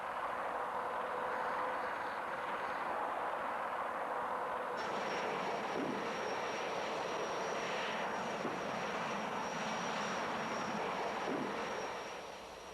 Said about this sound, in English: At a safe distance from the launcher, the cruise motor fires.